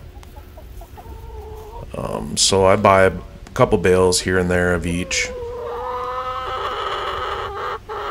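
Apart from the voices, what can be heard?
chickens clucking in a city backyard coop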